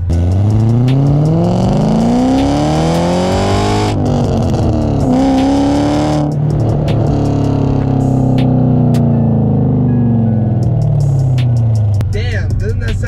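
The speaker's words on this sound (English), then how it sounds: "Just take a second and hear this beautiful exhaust" A BMW E34 with an aftermarket exhaust revving repeatedly, the engine pitch rising and falling in several loud sweeps, close by, with a brief pause between revs.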